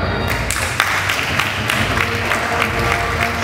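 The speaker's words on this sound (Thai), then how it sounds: "ขอเสียงปรบมือนะฮะ" Crowd applause at a Thai League 4 football awards ceremony, with steady clapping and scattered sharp claps throughout, filling the hall continuously without pause.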